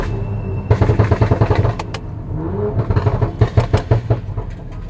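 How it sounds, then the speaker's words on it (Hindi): Stage 2 BMW X5 fitted with a pops exhaust, its engine burbling in rhythmic pulses with several sharp bangs and crackles fired off in quick bursts, loud and near. "देख लो भाई कैसे पॉप्स आ रहे हैं इसके अंदर।"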